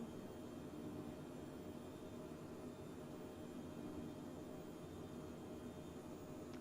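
An Embraer Phenom 100 jet engine runs at climb throttle in Flight Simulator 2020, a steady, faint, even roar with a low hum and a high hiss that hold constant throughout.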